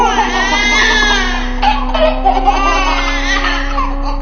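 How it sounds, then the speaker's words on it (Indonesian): A creature's eerie sound effect mixes wailing infant-like crying with giggling laughter in a continuous, loud, wavering stream over a low steady hum. "Makhluk itu merangkak cepat sambil mengeluarkan suara tangisan bercampur tawa."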